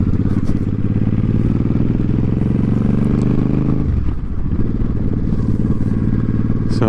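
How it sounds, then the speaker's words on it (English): A Suzuki Boulevard M50 cruiser motorcycle on a test ride, its engine rumbling loud and steady with a brief dip around the middle as the throttle eases, heard from the rider's position amid wind and road noise. "I'm test riding a Suzuki Boulevard M50."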